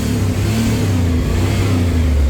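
A car engine revs steadily and loudly up close in a workshop setting, with a low, grunty tone and no voices over it.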